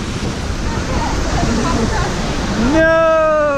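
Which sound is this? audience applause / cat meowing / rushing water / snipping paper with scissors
rushing water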